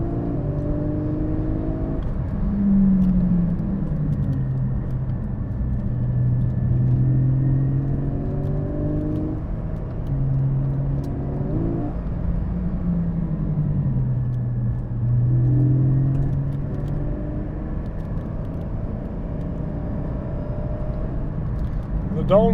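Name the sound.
Porsche GT4 car driving on road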